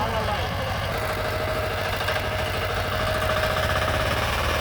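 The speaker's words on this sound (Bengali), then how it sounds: "মেশিনটি আবার রানিং করা হলো।" An agricultural drain-digging machine cutting channels in a rice field with stubble, a loud, steady mid-pitched engine drone with rhythmic knocking vibration, running continuously up close.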